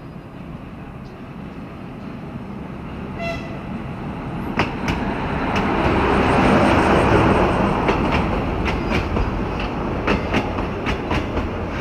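The Kyiv Children's Railway train rolls past outdoors on the last Sunday of summer, a rumbling approach that swells to a steady roar with rhythmic clicks and clacks of wheels over rail joints, no speech.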